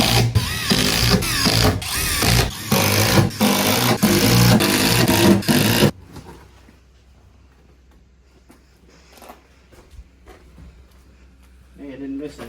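Cordless drill driving screws into plywood on a trailer wall, several loud pulsing bursts of whirring back to back, then stopping abruptly to a quiet room with faint handling noises.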